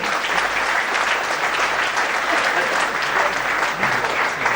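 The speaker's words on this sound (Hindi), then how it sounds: "हम लोग जोरदार ताली से इनका स्वागत करें" A crowd at an IAS felicitation function in India applauds to welcome an honoree, producing loud, continuous clapping that stays even and near throughout.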